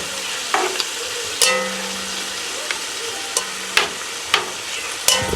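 Beef browning in olive oil in a stew pot, a steady close sizzle broken by several sharp scraping stirs and clanks of a utensil against the pot.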